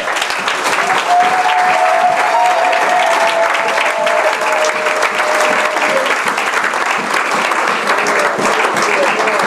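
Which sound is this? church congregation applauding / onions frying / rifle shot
church congregation applauding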